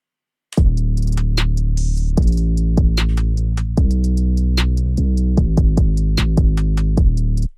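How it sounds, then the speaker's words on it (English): A full hard trap drum pattern plays loudly with no talking: rapid hi-hat rolls and triplets, sharp snares and claps over booming, sliding 808 bass notes in a steady, driving groove. "And altogether the drums sound like this."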